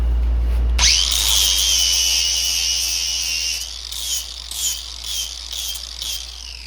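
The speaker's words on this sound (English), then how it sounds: "Let's take my flap wheel." Flap wheel on a power tool deburring the edges of a battery bus bar clamped in a vise: a loud whining spin-up, then a steady high grinding whir with several brief surges as the wheel bites the metal, with no talk.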